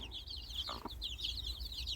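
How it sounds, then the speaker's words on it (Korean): Many baby chicks peep rapidly and continuously beside a hen outdoors in a natural setting, a dense high chirping chorus, with a brief lower cluck partway through and steady background noise. "이쁜 병아리들이 막 삐약삐약삐약삐약 사면서 이렇게 놀고 있으니 얼마나 귀여워요."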